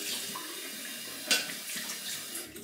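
Tap water running from a faucet onto a 24mm Yaqi Everest shaving brush, a steady close trickle with one brief louder splash partway through, no voices.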